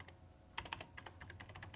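Quiet clacking of a computer keyboard as a name is typed into FileMaker Pro on a 1992-era computer, a quick uneven run of keystrokes heard up close over faint room hum, with no talking.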